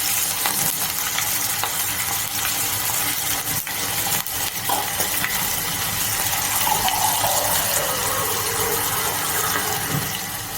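Green chillies and a leaf hit hot oil in a pan while making khaman, giving a loud, dense, continuous sizzle and crackle that fills the whole stretch, with faint stirring.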